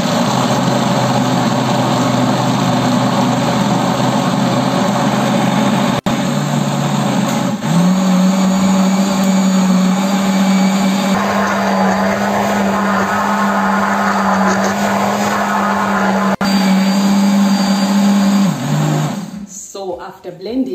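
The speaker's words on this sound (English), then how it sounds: "So I'm just going to blend. So when you're making tofu, you have to blend, make soya milk" A Philips blender grinds soybeans with water into soya milk for tofu, a loud, steady whirring roar that shifts pitch partway through, runs for many seconds and then spins down to a stop.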